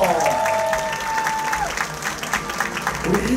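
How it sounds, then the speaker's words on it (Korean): Fans at a football club fan day clap loudly and continuously as a crowd, with an announcer's amplified voice carrying over the applause at the start. "박수 보내주세요!"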